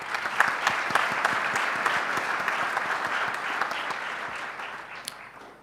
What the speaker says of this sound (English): Please, I would like to all of us give a round of applause for this choice.